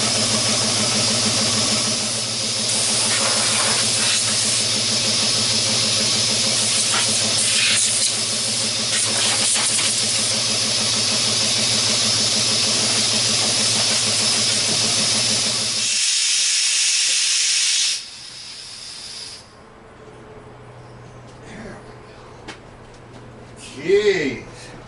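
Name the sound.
steam hissing from an open dump valve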